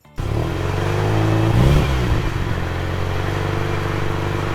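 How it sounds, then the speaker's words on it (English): An SUV with a broken exhaust pipe drives on a highway, its loud rough engine droning steadily with a brief surge of revving partway through. "That SUV with a broken exhaust pipe on the highway."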